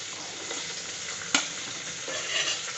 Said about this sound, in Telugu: ఇలా నీళ్ళు మరిగేటప్పుడు రవ్వ వేసుకోవాలండి